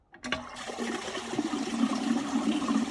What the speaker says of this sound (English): the large chamber underneath the drain that catches the water as the basin empties